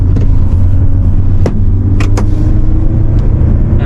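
A Hyundai Palisade Prestige diesel SUV with four-wheel drive and an 8-speed automatic gearbox cruises with a loud, steady low engine drone from inside the cabin, with a few brief clicks and shifts in tone as it drops gears.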